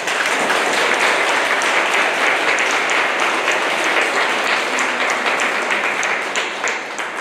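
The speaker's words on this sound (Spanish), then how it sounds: "Le damos un fuerte aplauso." Loud, dense applause from a congregation at a quinceañera Mass in church, continuous clapping that holds steady for several seconds before easing slightly at the end.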